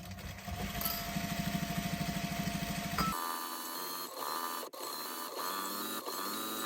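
A sewing machine runs steadily while stitching fabric for a small animal hideaway and bed, a fast mechanical whir that pauses at about three seconds before continuing at an even pace, close and loud with no talking.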